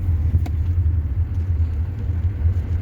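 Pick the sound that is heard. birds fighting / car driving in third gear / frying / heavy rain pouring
car driving in third gear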